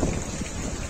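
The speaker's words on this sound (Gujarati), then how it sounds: "અત્યારે પવન પણ થોડોક વધારે છે." Strong wind near the Gir forest, a dense, loud roar of low microphone buffeting across the whole brief moment, with no talk.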